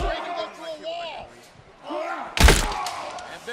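In a WWE Hardcore Championship match, one wrestler body slams another with a single loud, heavy thud partway through, while an excited commentator talks throughout.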